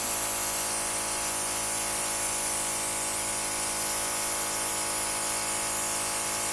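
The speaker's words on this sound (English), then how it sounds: "The compressor seems to be working well." A compressor powers an airbrush for model spraying, giving a steady, close, loud broadband hiss with a constant hum underneath that runs unchanged throughout with no talking.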